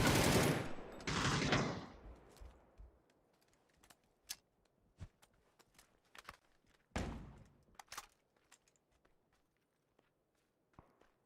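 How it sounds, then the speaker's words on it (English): Gunfire in PUBG rings out as scattered sharp cracks at a distance, mixed with footsteps and movement noise, after a louder rush of sound at the start. "You'll hear those shots coming out from him as well."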